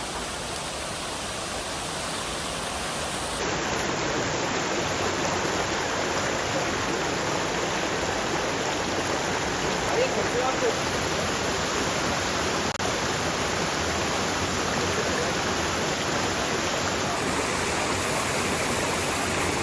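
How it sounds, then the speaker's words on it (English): A waterfall at Ballaketuwa near Ella rushes in a loud, steady broadband roar, close by and unbroken, with no voices. "We came all the way to the waterfall"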